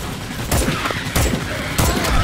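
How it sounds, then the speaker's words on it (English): Rockets blow up in quick succession in the bug-fighting shooter Starship Troopers: Extermination, three heavy booming blasts roughly half a second apart, close and loud over constant battle noise. "I've got bugs and rockets exploding next to me."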